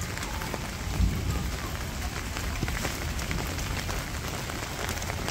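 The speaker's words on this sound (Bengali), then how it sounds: "বৃষ্টি কিন্তু মোটামুটি ভালো বৃষ্টি হইতেছে" Heavy rain pours steadily in a Bengal village at the start of the storm season, a dense, even hiss of drops drumming on surfaces close by, with no clear thunder.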